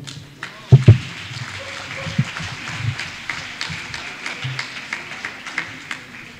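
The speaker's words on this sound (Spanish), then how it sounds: "recibámoslo con un fuerte aplauso" After a few loud knocks, scattered clapping from an audience at a live show settles into a steady, moderate round of applause with distinct individual claps.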